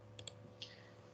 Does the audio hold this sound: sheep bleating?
no